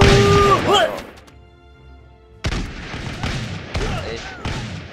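Muskets fire in the Totally Accurate Battle Simulator video game, loud booming volleys that drop into a quiet gap and then resume in several separate bursts, with a voice speaking over the battle.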